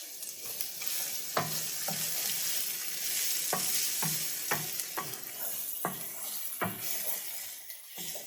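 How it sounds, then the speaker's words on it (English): A medium onion hits a pan of hot avocado oil and fries with a constant close hiss, punctuated by several sharp scraping clicks of a utensil stirring against the pan at irregular intervals. "In my pan here, I have 1 tablespoon of avocado oil. I'm going to add 1 medium onion to it."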